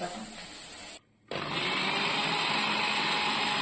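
Kitchen blender grinding garlic into paste, a loud steady whirring motor that cuts out for a moment and then resumes at full strength.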